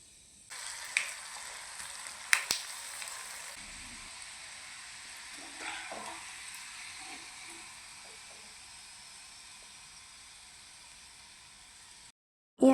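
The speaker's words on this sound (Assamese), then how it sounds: "এতিয়া বাকী থকা পিঠাখিনিও ভাজি ল'ম" Puli pitha rice cakes with coconut filling fry in hot oil in a wok, a steady soft sizzle and hiss with a few brief clinks and stirs early on, ending abruptly.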